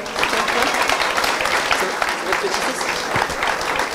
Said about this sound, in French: on peut l'applaudir aussi Aaron